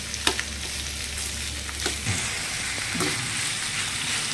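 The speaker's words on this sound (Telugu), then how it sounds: "ఇప్పుడు వీటిని 5 మినిట్స్ ఫ్రై చేసుకుందామండి." Onions and potatoes fry in a pan for puri curry, giving an even sizzle with scattered sharp spatula clicks and stirring scrapes close by. No talking.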